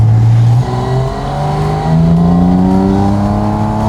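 A Porsche 718 Spyder RS engine revs hard to 9,000 rpm, its loud rising howl holding as the pitch climbs steadily, with a brief dip and recovery early on.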